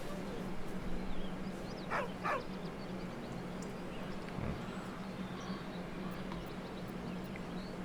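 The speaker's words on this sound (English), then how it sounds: "deep, heartbroken whine, the dog bows his head." In Baldur's Gate 3, a dog gives a deep, heartbroken whine: a couple of short whimpers rise over a constant low game ambience and hum, with no talk.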